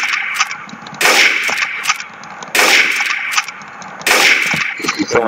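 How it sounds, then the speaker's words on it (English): Gunfire in Garry's Mod game, three loud, sharp bursts spaced about a second and a half apart, each ringing briefly, with a few softer clicks and taps between them. "I'm gonna have to shoot you"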